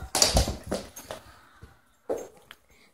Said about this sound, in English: Oh, such a bad dog.